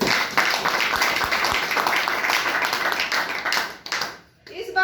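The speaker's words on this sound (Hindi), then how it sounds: "एक बार सभी गुरुओं के लिए जोरदार ताली होनी चाहिए।" Loud, sustained applause from a crowd at a Safe Shop gathering, honouring the gurus, with dense clapping that briefly thins near the end before picking up again.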